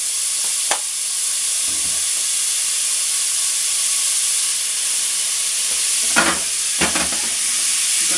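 Margarine melting in a hot pan hisses with a loud, steady sizzle close by, broken by a few sharp clinks and spatters of a utensil.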